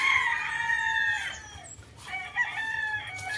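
A rooster on a farm crowing loudly and close, one long drawn-out crow followed by the start of another, with no talk over it.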